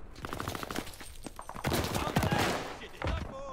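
Gunfire from the World War II shooter Call of Duty: Vanguard, with a dense burst of rapid shots and sharp cracks under in-game voices and a player talking.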